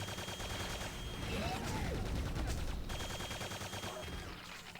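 Railgun and rocket launcher fire in the Quake 2 Plaguemaker single-player level, heard as rapid bursts and booms of game weaponry over a steady, fairly quiet mix of game sound effects.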